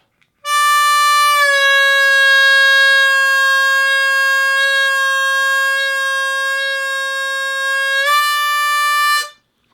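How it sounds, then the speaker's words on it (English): Harmonica holding a single long 4-draw note bent down, steady and loud for about eight seconds, with a small pitch shift at the start and again before it stops. Close and alone, with no talk. "take that 4-draw note and see how long you can hold it once you bend it down to the 4-draw bent."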